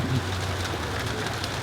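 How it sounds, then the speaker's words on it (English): Steady, moderate rain falls outdoors in an even, hissing wash that holds constant, with a faint low hum at the start and no voices over it. "Ah, rain."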